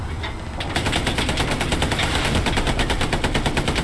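Sustained machine gun fire in the WWII shooter Hell Let Loose, fired from a tank during armored combat: a loud, rapid, steady stream of rounds that starts about half a second in and continues to the end.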